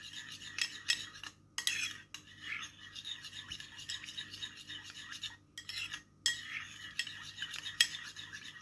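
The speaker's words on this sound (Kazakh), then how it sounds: "Енді бұның үстіне бір қасық жылы сүтімізден құямыз. Оны да жақсылап араластырып аламын." A spoon stirs warm milk into yogurt for homemade ayran, scraping and clinking steadily against the bowl in close, busy bursts with brief pauses, alone without talk.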